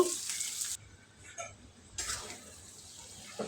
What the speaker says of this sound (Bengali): এখন আমি মশলাটার সাথে নুডলসটা মিশিয়ে দিব আস্তে আস্তে মিশাতে হবে